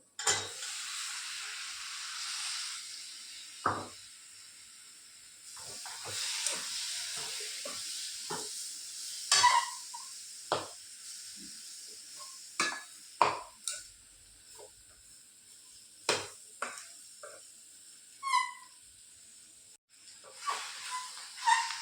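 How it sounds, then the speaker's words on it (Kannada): Cleaned mushrooms go into a pan with garam masala and are stirred, quiet sizzling and hissing broken by a string of sharp utensil scrapes and clicks, with no talk. "ಈಗ ಇದರ ಒಟ್ಟಿಗೆ ನಾನು ಕ್ಲೀನ್ ಮಾಡಿ ಇಟ್ಟ ಮಶ್ರೂಮನ್ನು ಹಾಕ್ತೀನಿ."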